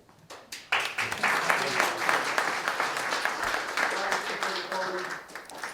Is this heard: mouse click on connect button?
no